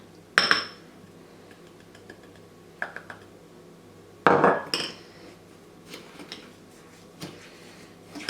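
A spoon stirring melted butter with sugar and cinnamon in a bowl, with a few sharp clinks against the bowl, two louder scrapes and lighter taps between quiet pauses.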